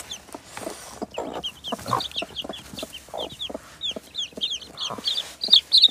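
A native free-range mother hen clucks in low, repeated bursts while her newly hatched chicks keep up a steady stream of high, rapid peeps close by.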